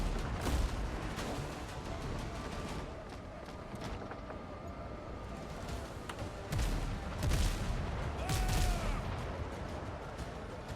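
Ship cannons fire during a naval battle in the video game WindRose, with repeated booming shots and rumbling blasts over a dense, continuous game soundscape of wind and water.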